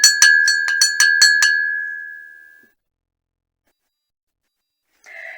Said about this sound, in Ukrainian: можна взяти чашку і чайною ложкою стукати по стінках